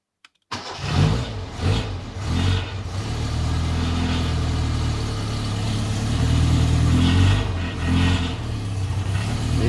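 A car engine in a seaside garage fires up and revs, running loud and rough with a loosely fitted exhaust rattling throughout, rising and falling in a couple of swells without any talking.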